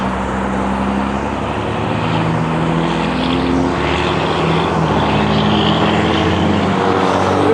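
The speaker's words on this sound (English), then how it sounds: "we got the loud trucks out today" Loud trucks pass close by in a continuous engine drone, steady and heavy with a low throbbing tone, no voices over it.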